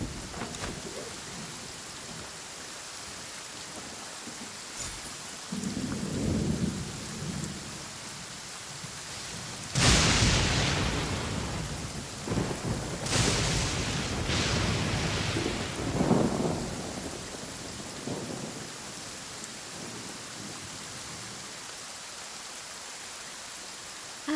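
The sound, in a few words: rain and thunder in the video game Genshin Impact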